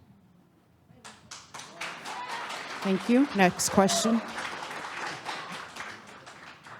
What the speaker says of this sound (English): please, keep the clapping and cheering to a minimum